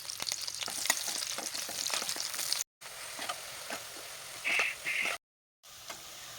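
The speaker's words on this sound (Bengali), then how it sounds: "পেঁয়াজটা এরকম লাল লাল করে ভাজা হয়ে যাবে" Sliced onions sizzle and crackle in hot oil in a kadai as they fry, a steady close hiss with brief scraping stir sounds, broken by two short gaps of silence.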